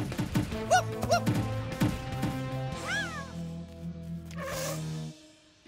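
A cartoon cat meows two or three times in short, rising calls, followed by a longer drawn-out meow over a steady low hum, fairly close.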